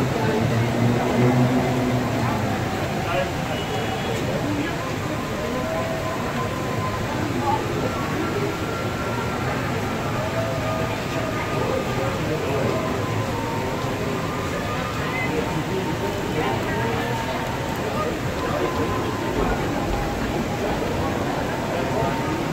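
A Bangkok metro train rumbles steadily for a long stretch, a loud continuous mechanical drone with voices talking faintly underneath.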